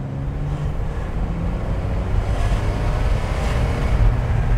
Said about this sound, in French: c'est que elle a l'échappement percé